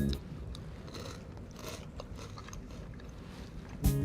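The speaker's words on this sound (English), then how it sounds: "Red Hawk, why is yours crunchy?" Crunchy food being bitten and chewed at a table, a run of close, soft crunching and mouth sounds over a low background hum, with a louder burst right at the end.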